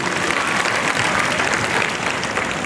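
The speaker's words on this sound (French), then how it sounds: "Applaudissez pour lui aussi." Steady, dense applause from a crowd at a religious vigil, loud and continuous throughout with no voices standing out.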